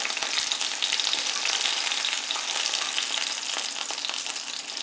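Zucchini flowers in sourdough-discard batter sizzle and crackle steadily as a frittata fries in a hot pan, a dense, bright frying hiss with small pops throughout, close up and without talk.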